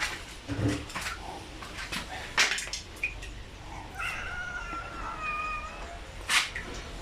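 A cat meows several times, drawn-out tonal cries standing out over a noisy indoor background with scattered clatter.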